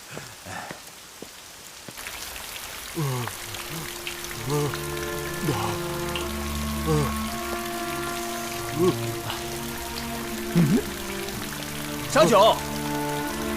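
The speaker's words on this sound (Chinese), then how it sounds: "下雨了" Rain falls steadily on a courtyard in a period drama scene, a soft continuous patter starting after a quiet opening, under background music and brief exclamations from voices.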